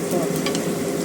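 Fresh scallops and celery being stirred and fried in a pan, with a steady close sizzle and light scraping of the utensil throughout.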